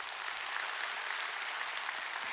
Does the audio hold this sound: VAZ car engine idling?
no